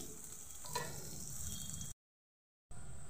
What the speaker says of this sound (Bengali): পেঁয়াজ কুচিটা দিয়ে ভালোভাবে পেঁয়াজটাকে ভেজে নেব।